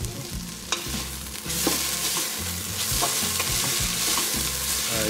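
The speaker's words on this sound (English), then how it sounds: "These are looking pretty nice and sauteed." Vegetables sautéing in a pan for a Colombian fish head sancocho, a loud continuous sizzle with repeated stirring scrapes close by.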